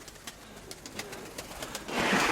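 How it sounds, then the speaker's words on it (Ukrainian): A pet dove coos softly at close range, a few low murmuring calls repeating over a quiet background, with a rustle near the end. "синя моя голубочка"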